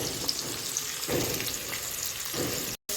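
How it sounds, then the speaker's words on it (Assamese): Chopped tomatoes fry gently in a pan over low heat, giving a steady, close, soft sizzle with faint stirring and a light watery crackle throughout, without speech. "চিমত দি এনেকৈ বিলাহীখিনি ফ্ৰাই কৰি আছোঁ"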